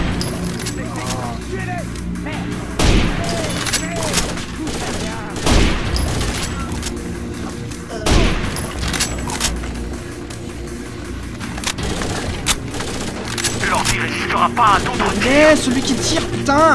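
Bursts of gunfire ring out in the video game Rainbow Six Vegas: loud rifle volleys and sharp single shots recur through a long stretch of combat noise, and voices speak throughout.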